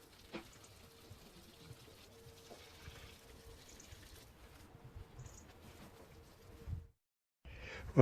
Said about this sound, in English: all that's left now is just to give them a good watering